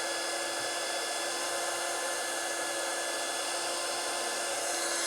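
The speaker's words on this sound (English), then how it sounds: "And then just run the heat gun against them, shrink it up." Heat gun blowing steadily to shrink heat-shrink tubing over freshly cut wire ends while assembling an Elenco XP-15 power supply kit, a continuous close, even hiss with no pauses and no voices.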